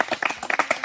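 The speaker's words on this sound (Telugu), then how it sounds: "మనం కూడా ఒకసారి చప్పట్లు కొట్టి చూద్దాం." A person stands beside a clear spring at Thogula Venkatapuram and claps to make bubbles rise from the water: a quick run of about seven sharp, close hand claps in an uneven rhythm.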